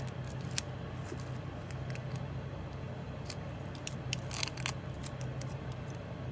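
Tape being pulled and pressed onto a chipped bone pocketknife handle during a repair, a series of short crisp crackles and snaps over a quiet steady background hum, close and faint.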